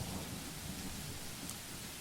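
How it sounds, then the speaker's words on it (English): Heavy rain pours steadily in the video game The Letter, a dense unbroken hiss with low rumbling thunder beneath it, loud and constant throughout with no voices. "The rain falls in fast, steady sheets, creating shadow puddles on the dirt path, drenching everything the eyes can reach."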